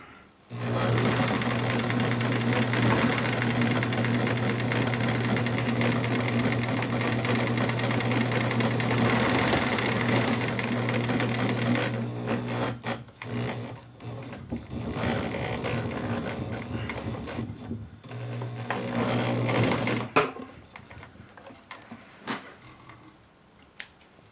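A Bernina Record 830 sewing machine runs steadily for about twenty seconds stitching a zippered pouch, a close, continuous mechanical whir with a brief pause and stop-start bursts near the end before it falls quiet.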